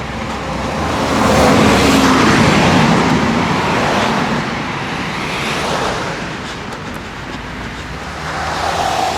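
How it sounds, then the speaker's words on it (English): Busy road traffic on an Easter Monday afternoon, with vehicles rushing past in swelling waves of tire and engine noise, close and continuous, with no talking. "The traffic is quite busy"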